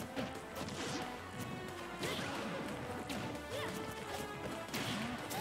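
Up smash attacks landing in a Super Smash Bros. Ultimate match between Pyra/Mythra and ROB, a busy run of sharp crashing hits and whooshes over constant game noise.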